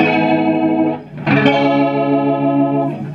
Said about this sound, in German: So, das war das Leslie.